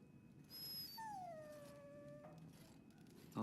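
A dog whimpers in the Dragon Age video game, giving a rising whine that slides into a long, drawn-out howling whimper over a low rumbling background, alone with no talk.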